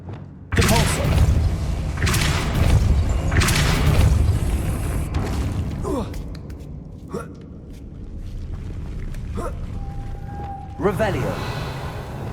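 Force-push spell impacts in Hogwarts Legacy land as heavy thuds and booms, a few separate hits spread out over rumbling game ambience, with a sharp burst near the end.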